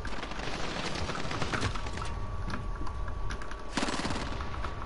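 Rapid, dense video game gunfire rattles on without pause for the whole stretch, loud and close, with sharper bursts standing out near the end.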